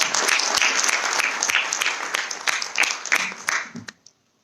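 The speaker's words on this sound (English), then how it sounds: "Request each one of you to give him a big round of applause." Audience applause for a government officer at a Chamber of Commerce event on the Sabka Vishwas Legacy Dispute Resolution Scheme: dense, steady clapping from many hands that thins and stops abruptly near the end.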